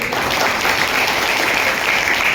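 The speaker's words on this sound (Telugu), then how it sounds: "ఒకసారి గట్టిగా చప్పట్లు కొట్టండి వాళ్ళకి" A church congregation at an anniversary celebration claps loudly, a dense, continuous burst of applause from a large crowd.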